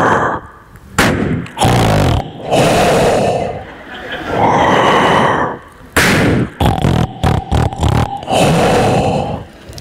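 A voice imitates snoring through a defective CPAP machine, likened to Darth Vader: several loud, rasping, breathy bursts with gaps between them, some sharp and percussive, filling the clip.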